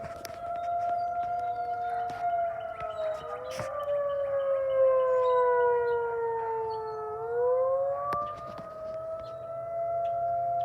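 A Federal Signal 2001-SRN tornado siren sounds from a distance with a steady, wailing tone that slowly falls and rises as it rotates. No voices are heard.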